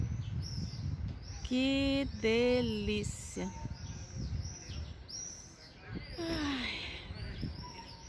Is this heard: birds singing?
yes